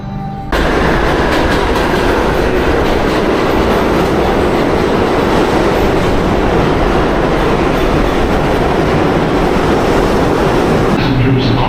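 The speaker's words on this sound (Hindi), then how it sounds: "ये है न्यूयॉर्क सिटी का सबवे स्टेशन।" A train rumbling loudly through a busy New York City subway station, a continuous roar with wheel clatter close by, filling the whole stretch and easing off at the end.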